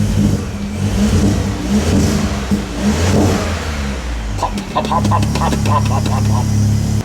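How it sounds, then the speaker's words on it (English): A VW Up GTI engine runs and revs with an uneven rumbling idle, then sharp repeated blips of the throttle near the end, close and loud throughout. "With the car running"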